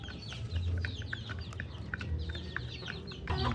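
Rhode Island Red hens clucking close by in repeated short, overlapping calls, a busy chorus of farmyard chatter with a low hum underneath.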